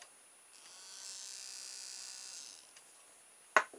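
A small 12-volt DC motor salvaged from a tape cassette player, powered by a 9-volt battery, spins up with a faint thin whine for a couple of seconds and winds down, followed by a sharp click.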